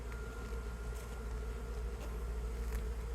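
Honeybees buzz loudly and continuously around an opened hive during an inspection, a dense steady drone close by with no voices.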